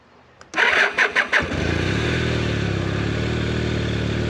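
Honda CB450T motorcycle engine started cold with a kick: a few rapid loud chuffs, then it catches and settles into a steady close, even idle.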